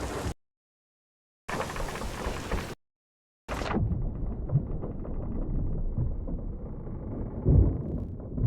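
Lightning strikes a ship's mast in the game Sea of Thieves: short bursts broken by silence, then a loud crack rolls into a long, rumbling thunderous roar that swells again near the end.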